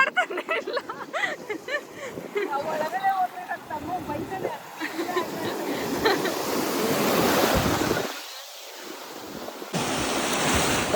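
Surf on a beach at Mangalore roars in a loud, continuous wash, with wind gusting across the microphone and people talking over the waves.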